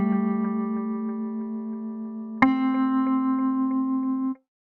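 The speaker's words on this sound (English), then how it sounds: "You see how tremolo works." A sampled guitar tone from a Kontakt library is played through a tremolo effect, holding one sustained note that pulses in a steady, rapid wobble, then shifting abruptly to a second pitch that keeps pulsing before cutting off.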